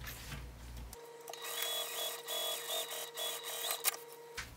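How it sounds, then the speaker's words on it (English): A sewing machine runs a steady straight seam across the top edge of a small crossbody bag, a quiet continuous whir after a short pause at the start, stopping near the end. "I'm going to sew across this top edge with the full seam allowance of 3/8 of an inch."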